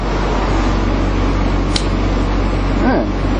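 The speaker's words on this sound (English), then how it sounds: "Dual heater switches. Yeah, I can hear them blow." Dual heater fans on a bus blow with a loud, steady broadband whoosh that runs continuously under a brief background voice.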